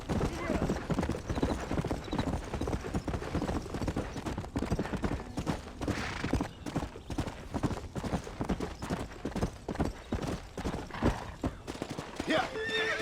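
Horses in the video game Red Dead Redemption clop their hooves in a dense, continuous rhythm with whinnies mixed in, while people talk over the scene.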